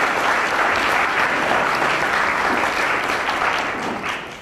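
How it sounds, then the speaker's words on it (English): An audience at a Fort Wayne Soup community dinner event applauds a presenter, with steady, dense clapping that holds strong throughout before easing slightly at the end. "will you give Ashley a round of applause"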